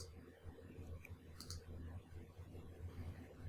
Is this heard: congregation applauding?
no